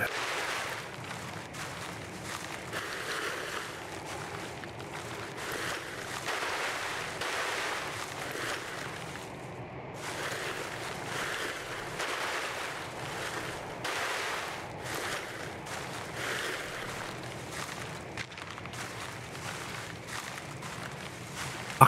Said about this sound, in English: The wind's loud.